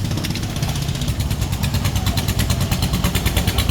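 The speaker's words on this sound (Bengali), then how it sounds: "একটা ট্রলার, একটা নৌকাকে টেনে নিয়ে যাচ্ছে।" A trawler's engine chugs loudly and close by as it tows a boat on a stormy, rainy day, a fast, regular mechanical throb that pulses steadily without pause.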